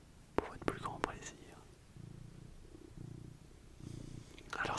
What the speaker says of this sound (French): C'est un chat qui va vous faire un peu de ronron pour votre plus grand plaisir.